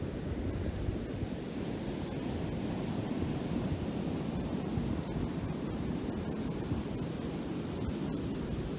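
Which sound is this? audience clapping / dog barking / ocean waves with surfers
ocean waves with surfers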